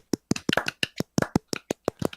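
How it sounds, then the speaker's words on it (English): A slow, deliberate golf clap: about a dozen soft, separate hand claps at an uneven, unhurried pace, close and fairly quiet, with no talk over them. "I don't even know if this golf clap is being picked up."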